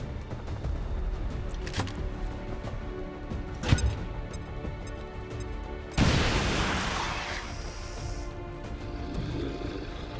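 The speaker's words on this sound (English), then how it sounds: "Bombs away!" Bombs blasting in the XCOM 2 video game: a sharp crack, then a heavy explosive burst roaring through a broad rumbling wash for a couple of seconds over a steady background of game music and noise.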